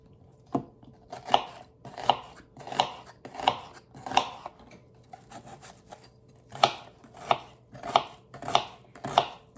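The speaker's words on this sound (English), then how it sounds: "I'm gonna chop up one onion." An onion being chopped with a Rada knife on a cutting board, with about a dozen crisp, evenly spaced knife strikes heard close and alone, pausing briefly midway.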